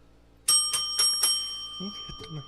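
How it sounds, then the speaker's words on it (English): A bell rings as a livestream donation alert, four bright, quick dings in a row followed by a fading ring and a few soft low thumps. "Gotta ring my bell, baby."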